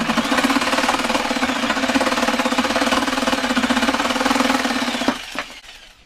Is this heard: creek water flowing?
no